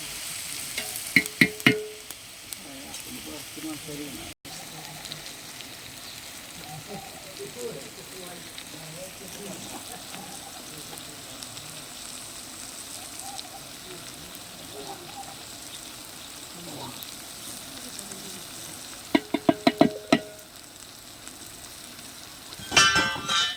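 Sangli-style brinjal curry, starting to scorch and stick to the pot, is stirred as the vegetables fry with a low, steady hiss, while brief clattering utensil knocks come near the start and end and faint voices sit in the background.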